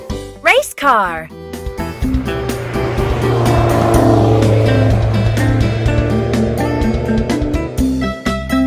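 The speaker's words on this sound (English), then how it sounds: "Race car." A race car engine roars loud and close for several seconds, holding a steady, droning pitch after a brief voice near the start.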